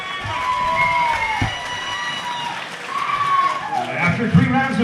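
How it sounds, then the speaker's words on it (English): Crowd at a corporate heavyweight boxing event in Onehunga cheers and applauds for two heavyweight fighters, a moderate roar of shouts and clapping beneath a loud announcer's voice. "a round of applause for these two heavyweight fighters"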